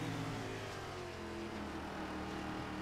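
A NASCAR race car engine in the iRacing video game roars steadily, a constant loud drone with layered engine tones and no talk.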